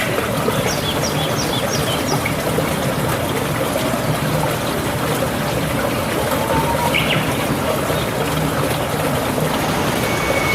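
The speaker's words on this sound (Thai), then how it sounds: "บริเวณที่ผมอยู่นี้คือ น้ำตกตะเคียนทอง" Takhian Thong waterfall in deep forest in Kanchanaburi sends up a constant, loud rush of falling water, with a few faint bird chirps heard over the steady roar.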